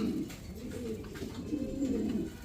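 Fancy pigeons kept for sale, including a red-gear-eyed cock and a Danish pair, coo in soft, throaty, repeated rolls close by, a continuous low warbling with no talking over it.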